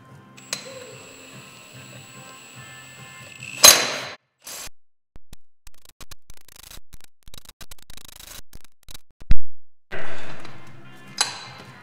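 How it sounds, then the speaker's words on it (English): An impact wrench on a lower setting zips the lug nuts onto a tandem trailer wheel. A row of short, evenly spaced ratcheting bursts rings out, then two louder rattling bursts, close and sharp, with a brief whine at either end. "Now I'll zip it in with the impact, wherever that is."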